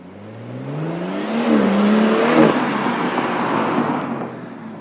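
A BMW M140i with a B58 engine and a K&N intake revs hard under heavy load, its engine tone rising and then holding at a loud, close roar with some turbo whoosh.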